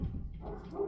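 A dog barks briefly and faintly indoors, one short muffled yelp lasting under a second with no one speaking.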